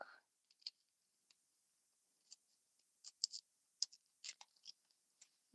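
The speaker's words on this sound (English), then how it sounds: "So you just peel the garlic." Garlic peeled by hand gives small, crisp crackles and snaps of papery skin, close and quiet, scattered irregularly over a few seconds against near silence.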